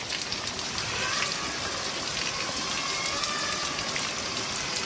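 Heavy rain pours steadily while a Ryze Tello and a DJI Mavic Mini drone fly outdoors. The dense, continuous hiss of the downpour is close and loud, with a thin whine faintly audible beneath it.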